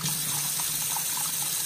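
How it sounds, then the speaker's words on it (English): Rice being washed in water, a steady wet swishing and trickling that runs continuously and fairly close, with no talking over it. "I'm going to wash the rice because we gotta get all that starch out of it"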